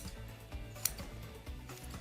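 Scissors snip off excess jute webbing in a few quick, close cuts, with a sharp click midway amid soft rustling.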